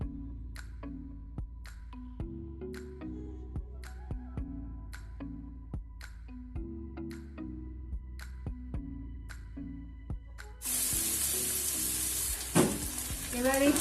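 Chopped onions frying in oil left over from fried rohu fish for a Bengali fish curry, a steady close sizzle with repeated stirring taps, swelling into a louder, brighter hiss near the end.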